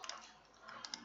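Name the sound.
typing on a computer keyboard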